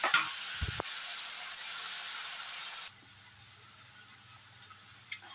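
Dried fish (sutki) frying in a pan with turmeric gives a loud, dense sizzle and one sharp clatter early on, then quiets abruptly to a softer, steady hiss after about three seconds.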